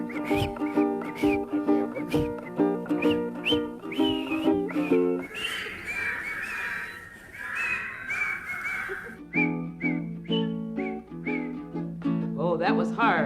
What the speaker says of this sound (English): Then we'll whistle a while together.